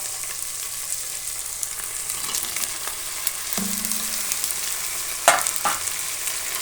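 Tomato sizzles as it is stirred into frying vegetables for bread pulao, a steady close hiss broken by a few scraping clinks of the spoon against the pan.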